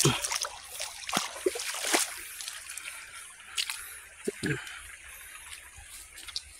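Water splashes and trickles with scattered drips and sloshes as someone wades across a shallow river, with faint voices in the background.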